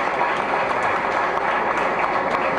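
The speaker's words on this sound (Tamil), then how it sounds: "அந்த அந்த சகோதரிக்கு ஒரு கைத்தட்டு கொடுங்க" An audience at a Tamil political meeting applauds a woman, a dense, steady wash of clapping from many hands that fills the whole stretch at even loudness.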